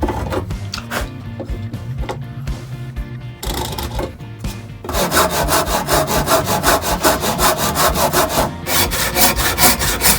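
Hand saw cutting wooden tenons, close and loud rhythmic rasping strokes, slower and sparser at first, then fast steady back-and-forth sawing with no talk.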